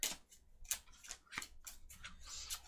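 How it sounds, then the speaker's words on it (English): Playing cards being shuffled at a tabletop game session, a run of quick riffling flicks and snaps in an uneven rhythm, close and fairly quiet. "Here, shuffle my cards."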